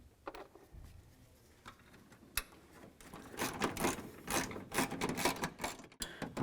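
Screws being started by hand into the hood latch of a 1999-2007 Chevy Silverado, with sparse clicks at first, then a denser ratcheting, rattling stretch of mechanical turning, close but fairly quiet.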